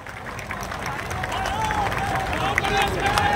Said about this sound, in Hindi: मैं एक बार चाहूंगा कि सब लोग ताली बजाकर स्वागत कीजिए